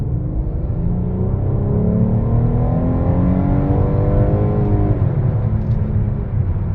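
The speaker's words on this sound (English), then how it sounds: "We did not hit the gear correctly there, and it should have downshifted. It didn't, and it shifted really late." A high-mileage Chrysler 200 engine, around 130,000 miles, revs steadily and loudly with a rising then falling drone as the transmission holds gear and shifts late, heard from inside the car with no talking.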